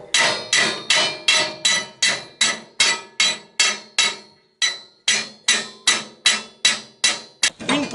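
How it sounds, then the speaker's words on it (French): A hammer drives a bar into place inside a Citroën Traction 11B car body. Sharp, close metallic blows land in a steady rhythm of about sixteen strikes, with one brief pause partway through. "Déjà, il faut l'emmancher au marteau."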